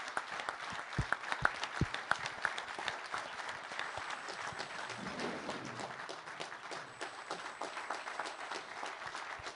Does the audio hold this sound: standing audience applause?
yes